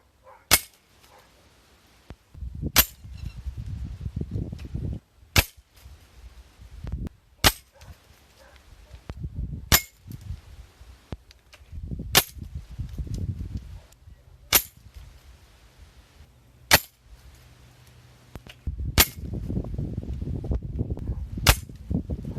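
Pellets strike a target at regular intervals of about two seconds, each hit a sharp, loud crack, with low rumbling and handling noise in between.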